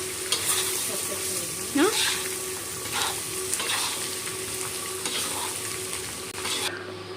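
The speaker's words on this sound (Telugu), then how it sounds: "ఇలా పెప్పర్ వేసి ఫ్రై చేస్తాము" Mutton fries with pepper, making a loud, constant sizzle with repeated scraping strokes of a spatula against the pan and a brief squeak near the start.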